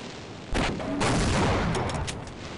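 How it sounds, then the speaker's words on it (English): Grenade launched in Half-Life 1 (MMOD): a sharp thump of the shot followed by a loud rumbling explosion and crackling debris, lasting a couple of seconds, with no talking. "Shoot a grenade."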